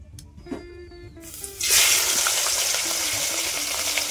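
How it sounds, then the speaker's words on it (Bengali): Fish frying in a pan: after a quiet moment with faint faraway noise, a loud hissing sizzle bursts in close by and carries on steadily to the end. "এদিকে দেখো মাছগুলো ভাজতে শুরু করেছি"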